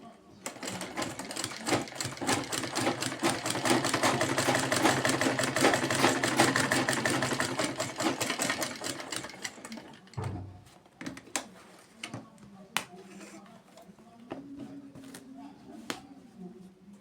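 A sewing machine stitches a patch pocket on fabric with a fast, steady mechanical whirring for about ten seconds, then falls quiet, leaving scattered clicks and handling noises with a voice speaking softly.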